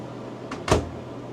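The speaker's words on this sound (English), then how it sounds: "The door still opens" An RV cabinet door fitted with magnetic spice racks swings open, giving a short soft scrape followed by a brief sharper knock or latch click, close by, in a quiet interior.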